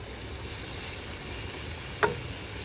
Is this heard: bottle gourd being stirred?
yes